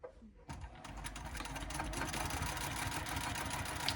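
A domestic sewing machine stitches a bag seam, starting abruptly and running in a steady, fast mechanical whir with a rapid needle rhythm, close and continuous.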